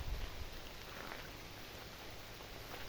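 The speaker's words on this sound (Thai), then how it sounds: "อันนี้กลับมาดูฝนตกอีกแล้วนะครับ" Rain falls steadily on a durian orchard in Thailand, a quiet continuous hiss of drops with no voices.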